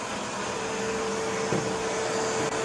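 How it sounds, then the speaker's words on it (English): A quiet vacuum cleaner runs with steady suction, a constant, even whoosh across the whole stretch with a slight bump midway and no voices. "You can't hear this vacuum cleaner at all, only from the suction."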